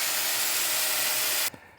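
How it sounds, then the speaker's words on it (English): A power drill runs continuously at full speed boring a hole through a greenhouse frame part laid on the ground, then abruptly stops, leaving a faint residual noise. "Put this junk on the ground and drill it."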